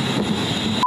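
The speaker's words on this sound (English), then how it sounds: "Train's coming" Steady low rumble and hum of a train arriving at Birmingham New Street station, loud and close, with a faint high whine running through it.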